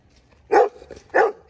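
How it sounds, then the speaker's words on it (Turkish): A young dog gives two sharp, close barks about half a second apart, with quiet pauses around them, on a street. "Genç de bir köpek."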